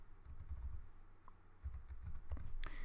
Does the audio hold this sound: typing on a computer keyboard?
yes